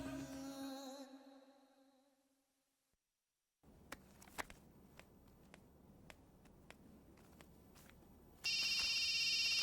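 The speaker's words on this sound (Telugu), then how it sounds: "hello, phone ఎత్తానాలమ్మా" A telephone rings in a comedy scene: a loud electronic ring bursts in near the end, after fading music, a quiet gap and scattered soft clicks and footsteps.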